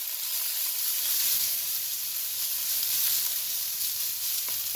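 Protein for vegetable lo mein sizzles steadily in a hot pan, producing a continuous, fairly loud hissing fry with no talking.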